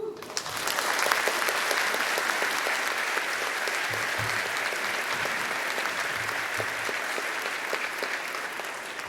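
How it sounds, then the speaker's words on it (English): Sustained applause from a conference audience at the end of a talk, many hands clapping in a thick, even wash that holds steady for several seconds, with faint voices mixed in. "Can you give her one more round of applause, please?"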